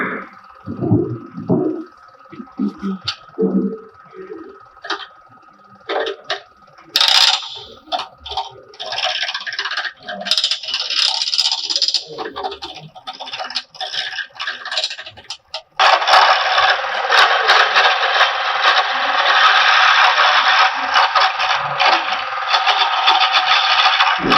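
An acrylic pen blank spins on a wood lathe at around 1,000 RPM as a tool is set to a 45-degree bevel. Scattered scraping and rattling give way to a steady, loud, continuous hiss of cutting that holds to the end.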